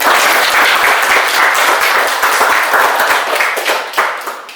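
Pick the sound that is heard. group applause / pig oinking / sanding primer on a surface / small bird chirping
group applause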